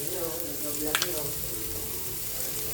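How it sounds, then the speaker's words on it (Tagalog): Garlic sautés in a pan for pakbet, a soft steady sizzle with a brief stirring scrape near the start, fairly quiet and without voices. "Magigisa na po tayo sa ating pakbit."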